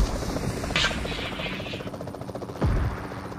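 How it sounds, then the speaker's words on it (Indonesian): A helicopter's steady rotor drone in the video game PUBG hums through, overlaid by bursts of game gunfire and a sharp impact near the end. "Ada helikopter."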